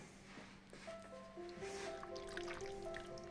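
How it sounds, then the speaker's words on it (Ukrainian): Pickled cucumbers in mustard are packed by hand into a jar, giving soft wet squishes and dribbles of juice, quiet and close, with a faint steady hum behind. "Накладаю в банку."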